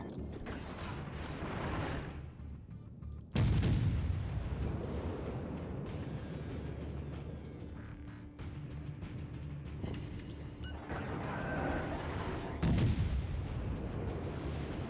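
Ship's guns fire in World of Warships, with heavy booming salvos at intervals over rumbling engine and sea noise, some blasts sharp and close, others duller.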